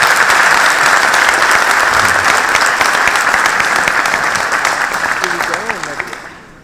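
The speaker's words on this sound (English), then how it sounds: "ça mérite des applaudissements" An audience at a conference applauds, loud sustained clapping that holds steady and then slowly fades away toward the end.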